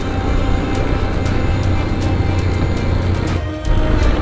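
Motorcycle engine braking downhill on the Kargil–Leh road, a loud continuous engine drone with a steady low rumble and wind roar, briefly dipping near the end before resuming.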